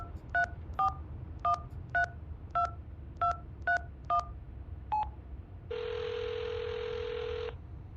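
A phone in a Quest 2 VR game dials a number: a string of about ten crisp, evenly spaced keypad tones, followed by a longer steady buzzing tone as the call connects, all clear and isolated.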